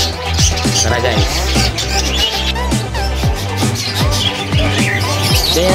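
African lovebirds chirping during a transfer at a rooftop aviary, busy overlapping tweets and squawks, loud and close, over a steady hum.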